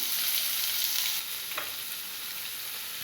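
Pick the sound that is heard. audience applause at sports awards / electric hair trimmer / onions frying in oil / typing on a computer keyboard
onions frying in oil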